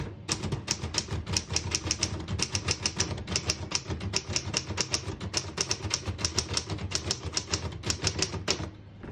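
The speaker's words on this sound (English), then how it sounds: "I'll type a sentence in red on the next line, switch from black to red." A 1931 Smith-Corona Flat Top portable typewriter types out a sentence, with dense runs of sharp, close metallic key strikes in an even rhythm, pausing briefly between words.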